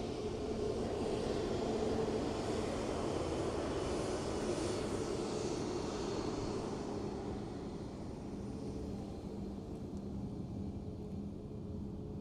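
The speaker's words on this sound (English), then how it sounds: "Qatar Dreamliner in from Doha." A Qatar Airways Boeing 787 Dreamliner arriving from Doha at Dublin Airport gives a steady, fairly distant engine roar that gradually fades, heard alone without talk.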